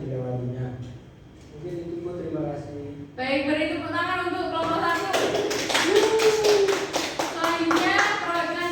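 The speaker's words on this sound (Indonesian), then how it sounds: "beri tepuk tangan untuk kelompok 1." A class applauds for a group of student presenters during a micro-teaching lesson: a speaking voice first, then several seconds of dense, steady clapping from many hands that continues under a voice.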